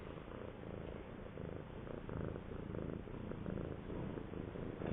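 Close, steady cat purring rumbles continuously in a soft rhythmic drone, with no other sounds around it.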